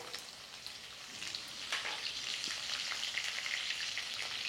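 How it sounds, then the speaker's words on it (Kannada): Mustard seeds, cumin and green chillies sizzle in hot oil, a quiet, steady crackle with scattered sharp pops that thickens slightly partway through, heard alone. "ಈಗ ಸಾಸಿವೆ ಚಟಪಟ ಅನ್ನಕತ್ತೈತಲ್ರಿ"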